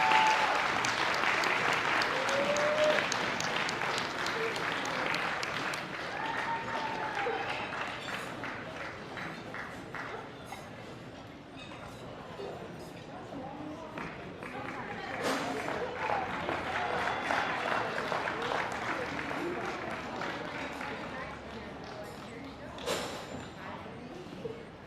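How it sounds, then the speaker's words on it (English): Gala audience at a chamber of commerce event applauding at length, sustained clapping with a swell partway through and a voice speaking over it. "You guys can keep the applause going as they make their way up."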